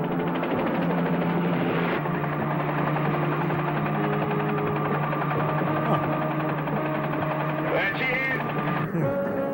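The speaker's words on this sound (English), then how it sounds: "Oh, so the helicopter's chasing the boat." Film helicopter flying over water while chasing a boat, a steady loud rotor and engine drone running throughout, mixed with film score and other soundtrack noise.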